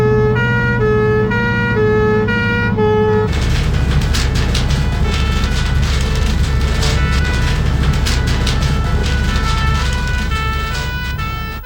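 A 13-tonne fire engine pump vehicle, loaded for a 999-style call, drives with its siren wailing loudly and continuously over a heavy engine rumble, the sound staying close throughout.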